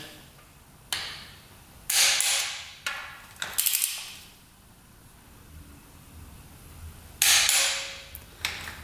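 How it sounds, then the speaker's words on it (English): Wheel nuts on a quad being tightened with a torque wrench in a crisscross pattern to 33 foot-pounds. Sharp metallic clicks and short ratcheting bursts come close up, spaced irregularly with quiet gaps between them. "we just have to get the nuts up here and torque those down to 33 foot-pounds"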